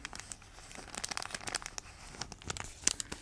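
Crinkly wrapping paper being handled close up, a dense run of sharp crackling and crinkling bursts that swell and fade with no talking.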